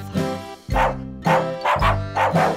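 A cartoon dog's woof sung as part of a children's animal-sounds song, with repeated musical bursts over a bouncy accompaniment, loud and up front.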